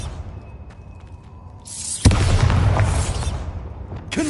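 A Bombarda spell goes off in Hogwarts Legacy with a sudden loud explosive boom, preceded by a brief rising whoosh. A rumbling burst of debris follows and trails off over a few seconds, and no voices are heard.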